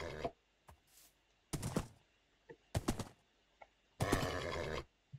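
A horse in Minecraft whinnies in several short bursts, separated by brief pauses and quick clicks, with the last neigh being the longest and loudest, and no voices heard.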